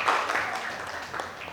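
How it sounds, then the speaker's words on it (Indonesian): Brief classroom applause after a student presentation, a short scattered burst of clapping from a small group of students, fairly faint and fading quickly. "Saya tepuk tangannya mana untuk Lutfia?"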